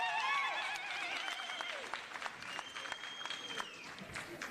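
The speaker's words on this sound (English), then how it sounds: "Let's give him another round of applause." Delegates at an ANC regional conference in Greater Johannesburg applaud, brisk clapping that swells at the start and then thins, mixed with crowd noise, whistles and scattered voices across the hall.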